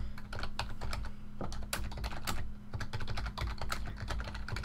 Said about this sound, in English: I feel like you guys didn't hear the keyboard really loud